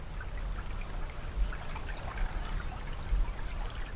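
Water runs through an aflaj irrigation channel in the Omani desert after a sluice gate opens, a steady close trickling and gurgling flow that continues without a break and carries no voices.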